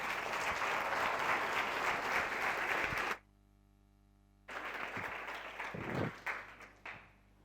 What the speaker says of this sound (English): give a round of applause for Neo as we welcome him.